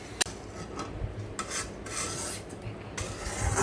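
Semolina roasts in Dalda in a pan while a spoon stirs it, giving a soft, continuous close-up scraping and rasping with one sharp tap near the start, fairly quiet and with no voices.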